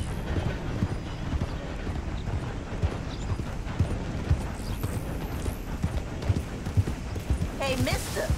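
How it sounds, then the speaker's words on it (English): Horse hooves clip-clop steadily in Red Dead Redemption 2, a continuous rhythmic trot under ambient game sound, ending with a short high whinny. "That's one nice looking horse you got."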